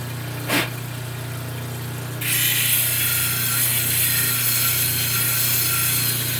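Grey shell piece ground and polished on a 320 grit wheel, a steady motor hum with a brief knock, then a louder continuous gritty rasp as the shell is pressed to the wheel, with no talking.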